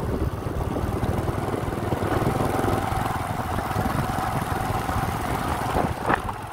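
A 2010 Honda Future X Fi motorcycle engine runs steadily nearby, a continuous low rumble with no talk over it.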